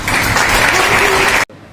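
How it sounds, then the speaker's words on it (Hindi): Loud, dense applause from a lecture audience during a UPSC preparation talk, a sustained burst of clapping that cuts off abruptly after about a second and a half. "मैम के लिए एक बात ताली"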